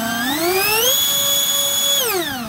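Dynam Cessna Citation II RC model jet with electric ducted-fan nacelles spooling up: a loud rising whine that climbs over a second, holds steady and then winds down, close and alone.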